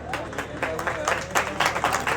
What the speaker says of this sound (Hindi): भाई जोरदार तालियों से स्वागत करें भाइयों